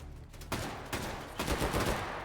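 Full-auto gunfire from a slow-firing video game rifle rattles in several distinct bursts, loud and close, with no talking over it.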